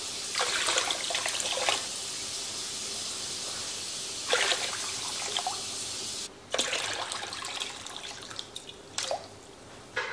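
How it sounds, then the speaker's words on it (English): Tap water runs into a canning pot holding jars, a splashing, trickling rush that starts and stops in several bursts of a few seconds each, fairly close with no talking. "And then I'm gonna fill the water to cover those."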